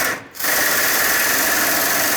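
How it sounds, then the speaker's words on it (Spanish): Self-tapping screw driven into the body of a Toyota Hilux with a power tool, a loud steady motor whir after a brief pause at the start. "lo sujetaremos directamente con un tornillo autorroscante"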